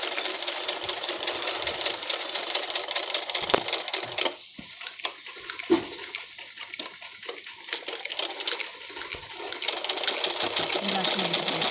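A sewing machine stitches along the edge of cloth for a girl's frock, its rapid mechanical whir running in bursts with brief pauses. Someone talks over the stitching.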